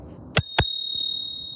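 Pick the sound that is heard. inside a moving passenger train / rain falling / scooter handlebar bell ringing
scooter handlebar bell ringing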